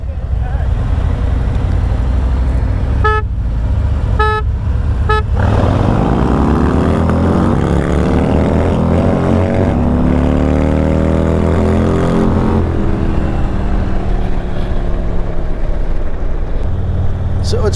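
An engine revs up loudly and climbs in pitch as the car pulls away, after a few short clattering bursts near the start.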